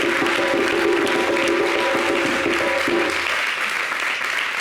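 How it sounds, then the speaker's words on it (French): A studio audience at a French-language television show applauds: dense, steady clapping from a crowd in the room that carries on throughout and eases slightly near the end. "demander à ceux qui sont dans la salle d'applaudir ceux qui sont devant leur écran"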